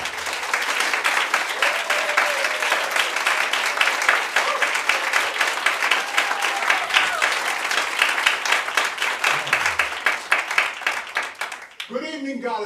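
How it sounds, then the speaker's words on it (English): An audience at an evening gathering at Esalen, California claps steadily and loudly to welcome a speaker, dense continuous applause filling the room before it breaks off and a voice begins talking at the end. "Please give him applause as a sign of welcoming him into your hearts."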